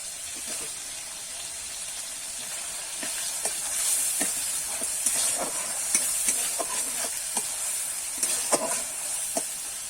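Chopped tomatoes are stirred into pea ghugni in a pan, with a steady frying hiss and a series of scattered spatula scrapes and taps at close range; no voices.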